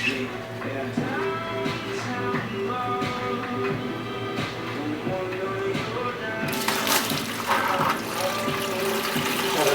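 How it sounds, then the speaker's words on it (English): Coolant drains from a Mazda Miata radiator into a catch pan, a continuous close splashing and trickling of liquid that grows brighter and heavier near the end. "Make sure you have a pan underneath to catch all the coolant."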